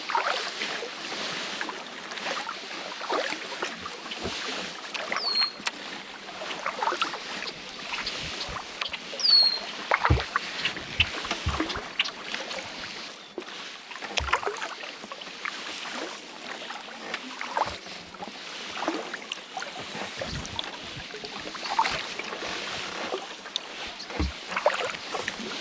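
Kayak paddles dip and splash rhythmically on Dry Falls Lake, a desert lake under cliffs, with soft intermittent strokes, light drips and faint breeze, fairly quiet and without talk.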